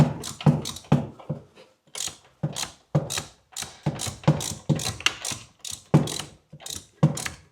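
A ratchet unscrews a small screw, giving close, crisp bursts of rapid clicking repeated in a steady back-and-forth rhythm with short pauses between strokes.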